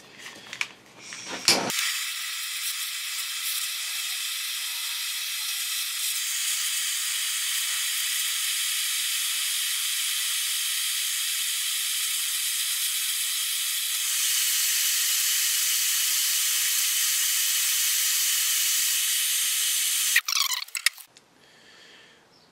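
A propane-butane gas torch hisses loudly and steadily for about eighteen seconds while heating a pipe for a DIY sand battery solar water heater, its roar stepping slightly louder partway through before cutting off.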